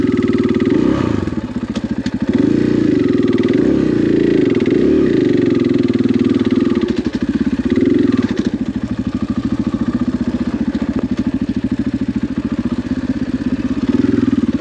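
A dirt bike engine drones loudly and continuously on a singletrack OHV trail loop at Sugar Pine near Foresthill, California, the pitch rising and falling as the rider shifts and throttles, close up with steady wind-like rumble.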